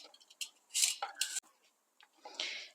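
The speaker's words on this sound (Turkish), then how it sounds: "Şimdi 2 adet patatesimizi bir soyacak yardımıyla güzelce soyuyoruz." Two potatoes scraped with a vegetable peeler, giving a few short, close rasping strokes with brief pauses between them, no voices.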